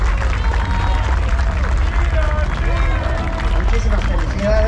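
A crowd at a Batalla Real wrestling event applauds the champion, steady dense clapping and crowd noise filling the whole stretch, with an announcer's amplified voice talking over it.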